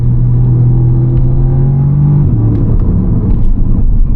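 A 2014 Audi S3 (8V1) with a 290 PS engine and S-Tronic gearbox pulls hard in a straight line, its deep engine rumble heard from inside the cabin, rising steadily and then dropping briefly as it shifts.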